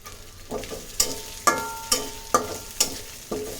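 Chicken fries in oil in a pan with a steady sizzle, broken by six evenly spaced clinks of a utensil stirring and scraping the pan.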